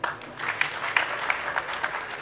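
Audience at a live comedy show claps on request, a brief burst of applause with a few sharper individual claps standing out, moderately loud and fading toward the end.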